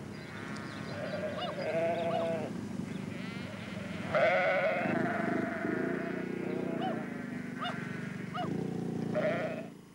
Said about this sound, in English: the Honourable Mrs. Penny Motion, now setting off to muster the sheep.